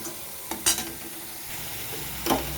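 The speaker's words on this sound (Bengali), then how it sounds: "টমেটো মশলার সাথে ভেজে নেব যাতে টমেটোটাও গলে যায়" Tomatoes sizzle with spice paste in a pan for a soybean curry, under a steady low fry hiss, with two brief scraping stirs, one near the start and one near the end.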